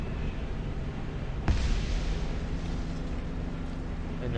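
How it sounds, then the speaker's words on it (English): A rocket salvo and bomb blasts in the War Thunder air combat game, a sudden heavy boom rising out of a constant loud engine and wind roar, then a sustained rumbling wash. "going to start off with a rocket salvo. Now. And bombs"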